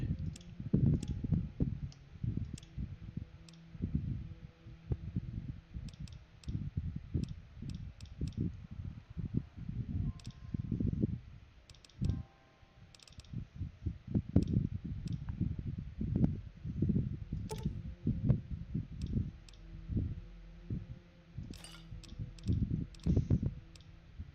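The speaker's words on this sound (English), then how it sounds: "You hear me clicking?" Soft, steady clicking repeats rapidly and irregularly for about twenty seconds, close and fairly quiet, with no talk over it.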